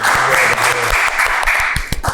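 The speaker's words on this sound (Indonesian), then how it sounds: "tepuk tangan dong untuk BEM UI udah mau datang kado kita" A small group in a casual hangout setting claps for student council guests, a close, busy burst of applause with a few sharper individual claps and faint voices underneath.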